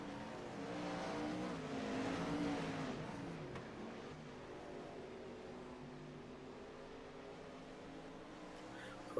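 Several 360 wingless sprint cars circle the track at Volusia, their engines droning and swelling together at a distance, with a broad roar that rises in the opening seconds and then settles into a steady hum.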